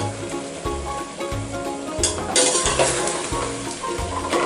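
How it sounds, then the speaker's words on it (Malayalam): Mutton and green chillies fry hard over a high flame, a loud close sizzle broken by regular scraping strokes of a spoon stirring the pan. "മട്ടൺ ഇട്ടിട്ട് നമുക്കൊരു 5 മിനിറ്റ് ഒരു ഹൈ ഫ്ലെയിമിൽ തന്നെ ഇതൊന്ന് ഇളക്കിക്കൊണ്ടേ ഇരിക്കണം."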